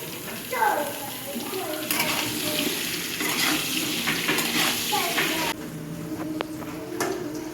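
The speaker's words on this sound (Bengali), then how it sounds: "আলুগুলো দিয়ে লাল লাল করে ভেজে দেবো" Potatoes fry in a pan with salt and turmeric, a loud, dense, watery hiss and crackle that carries on nearly throughout and eases slightly toward the end.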